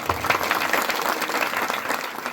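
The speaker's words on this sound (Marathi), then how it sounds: "हा शेळके महाराज यांच्यासाठी टाळ्या वाजवा." An audience at a kirtan applauds Shelke Maharaj with a dense burst of clapping that fills the whole brief moment, close and lively.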